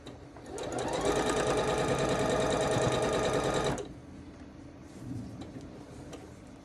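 A sewing machine stitches a quilt block in a steady, fast whirring run of about three seconds that stops abruptly, followed by quieter handling noises, close and clear.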